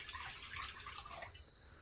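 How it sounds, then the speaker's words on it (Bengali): Water pours into a karai (wok) set over a wood fire, a brief, soft, splashing trickle heard alone and close. "জল দেবো কড়াইতে।"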